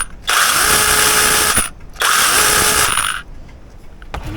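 An IMOUM 6-inch 21-volt cordless chainsaw whirs in two bursts of about a second and a half each, run to circulate bar oil, separated by a short pause, close and loud.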